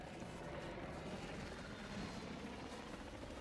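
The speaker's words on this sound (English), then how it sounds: "where the helicopter flies overhead. And the Little Bird just sounds tremendous there." A Little Bird helicopter in Battlefield 6 passes overhead as a steady, faint rotor and engine drone with no distinct beats and no voices.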